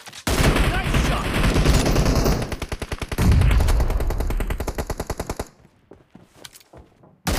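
Rapid bursts of automatic rifle and sniper fire in a PUBG-style shooter game crackle loudly and continuously for several seconds, then break into a few scattered shots as the action dies down.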